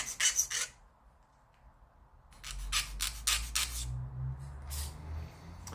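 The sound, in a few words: scraping excess paint off Airfix Mitchell model fuselage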